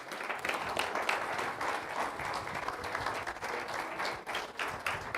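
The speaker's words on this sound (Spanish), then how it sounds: "Date un aplauso, por favor." A church congregation gives a round of applause, a dense and fairly soft, steady wash of clapping lasting the whole stretch.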